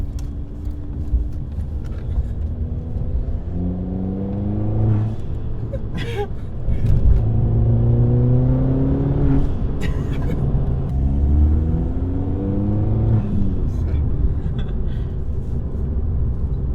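A straight-piped 1.2 TSI car engine rumbles loudly at close range, rising through a few hard revs and dropping back, with a deep, rough exhaust note throughout.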